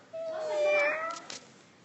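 A small kitten gives a single drawn-out meow, close and clear, with a faint trailing sound after it.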